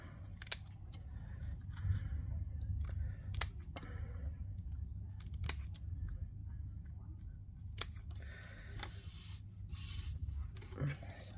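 Scissors snip card pieces for handmade cards, giving sharp isolated cuts at irregular intervals over a low steady background hum, close and fairly quiet.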